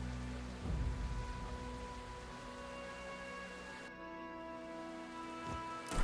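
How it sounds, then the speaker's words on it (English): Steady rain falls in the steampunk video game Gestalt: Steam & Cinder, a continuous soft hiss over layered game music tones, with a brief low rumble near the end. "Oh, stop raining."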